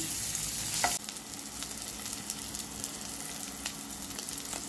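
Potatoes fry in hot oil with turmeric, salt and chili, giving a steady, fairly quiet sizzle with a few stirring scrapes. A louder burst of frying is heard in the first second.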